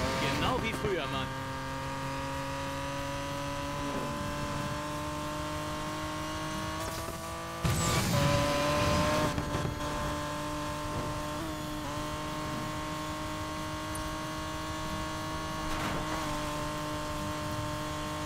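A car engine in the racing game Need for Speed Payback drones and revs continuously with shifts in pitch and a brief louder surge midway, while someone talks over it.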